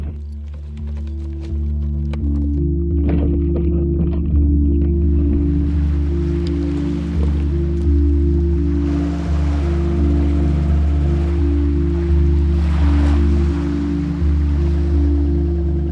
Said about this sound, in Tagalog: buong pwersang hinila ni Dagul ang bangka hanggang makarating ito sa dagat